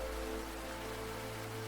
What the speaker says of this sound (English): the rain ceased